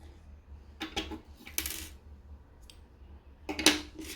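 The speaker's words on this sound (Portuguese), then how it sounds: "Agora, vamos cortar o fio." Scissors snipping crochet yarn at the end of a round on a crochet phone bag, a few sharp close clicks and snips spaced apart against a quiet room hum.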